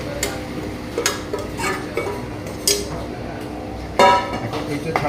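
Crushed onion going into a pan for kanda masala onion sauce, with scattered clinks and scrapes of a utensil against the pan as it is stirred, close by and moderately loud, with one sharper knock near the end.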